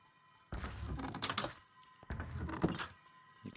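Mechanical grinding from a command-block windmill in Minecraft, coming from the basement: two rough, scraping bursts of noise over a faint steady hum, with no talking.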